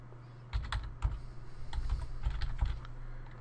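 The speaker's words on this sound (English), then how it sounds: "all you need to do here is type out the actual bat file that was inside that tools folder" Fingers type a .bat file name on a computer keyboard: a quick run of close, quiet keystroke clicks with a few slightly louder taps, and no voices.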